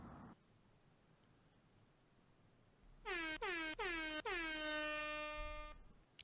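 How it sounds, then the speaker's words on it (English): Air horn sound effect blasted several times in quick succession starting about halfway through, loud, bright and harmonic, alone with no talking over it. "I got 4 air horns."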